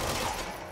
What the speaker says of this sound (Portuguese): Agora eu vou ter que dar tiro aqui